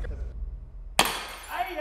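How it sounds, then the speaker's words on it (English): Glass shatters loudly and suddenly after a quiet stretch, struck by a Nerf dart fired at a couch, followed by a bright spray of falling shards and tinkling debris, with excited voices around it. "that glass went everywhere"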